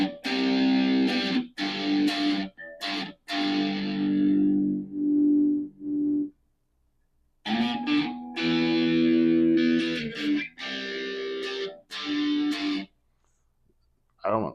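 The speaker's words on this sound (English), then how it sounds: "It just, to me, sounds just like distorted heavy metal type stuff." Heavy metal style distorted electric guitar through a Positive Grid Spark GO amp, played in loud sustained chords and riffs with short gaps between phrases, close and alone.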